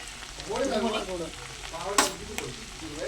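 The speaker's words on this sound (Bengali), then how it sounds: "সব কিছু একসঙ্গে ভালো করে কষিয়ে নেবে" Spices and chopped tomato sauté in a pan with steady sizzling and frying, stirred with soft scraping and one sharp clink of utensil on metal, close by and without talk.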